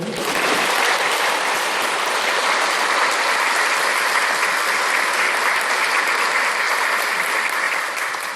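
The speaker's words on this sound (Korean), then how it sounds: "박수 한번 칠까요?" A church congregation applauds during an Easter Vigil Mass, a broad, even wash of clapping from many people that holds steady for several seconds and fades slightly at the end, with no talk.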